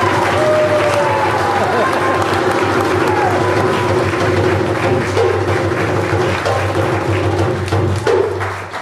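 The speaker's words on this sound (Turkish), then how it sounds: "Alkışlar!" An audience at an illusion show applauds steadily and loudly for several seconds, a dense wash of clapping that fades at the very end while a presenter's voice carries over it.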